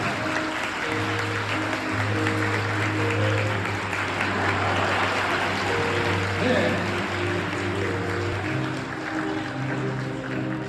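Wedding guests in a Korean wedding hall applaud during the ceremony, a dense and steady wash of clapping that lasts throughout, mixed with sustained background music tones.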